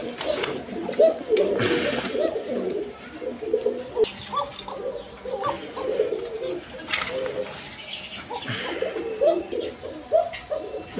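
A pair of Spanish pigeons of Indonesian colour sitting on two eggs in a small cage, giving continuous low rolling coos close by, with someone talking over them.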